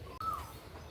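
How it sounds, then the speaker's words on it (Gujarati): An Asian koel calls from a tree outside under a stormy, clouded sky, one clear rising whistle-like note at moderate distance over low wind rumble. "તો ચાલો મસ્ત મજાની કોયલ બોલે છે ઝાડ ઉપર અહીંયા સામે."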